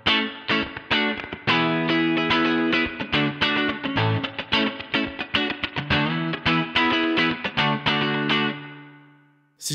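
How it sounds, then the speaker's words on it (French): Electric guitar played through a Line 6 Pod Express modelling a Fender amp with spring reverb: a steady run of picked notes and chords, rich and sustained, ringing out alone and fading into a reverb tail at the end. "on va rajouter une petite reverb spring et on va avoir un son d'ampli Fender avec de la reverb"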